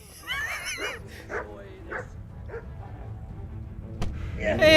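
A dog in a video game yips, whimpers and barks in several short bursts over a faint steady game background, with more noise building toward the end.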